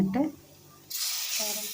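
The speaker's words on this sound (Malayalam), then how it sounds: "ചൂടുവെള്ളമാണ് ഞാനിവിടെ ഒഴിച്ചു കൊടുക്കുന്നത്" Hot water poured into a spice powder mixture in a pan while cooking, a steady hiss and splash that starts suddenly after a brief voice and runs on to the end.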